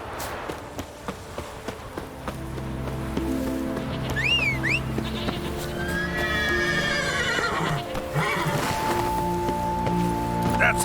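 Roach, a horse in The Witcher 3, whinnies in a couple of rising calls over steady clip-clopping hooves and a busy ambient bed.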